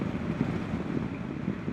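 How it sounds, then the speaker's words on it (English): Wind buffets a GoPro microphone on a moving vehicle during a road rally in Vermont, producing a steady, loud, low rumbling roar with no voices. "it's windy. Isn't it windy?"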